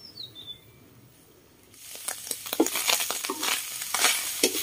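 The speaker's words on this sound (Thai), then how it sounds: "ลวกให้เนื้อน้ำมันออกก่อนนะครับเดี๋ยวเราผัดกัน" Beef frying in its own rendered fat in a pan, with a soft hiss that rises into steady crackling sizzle and stirring scrapes about two seconds in, close and fairly loud, with faint birdsong in the background.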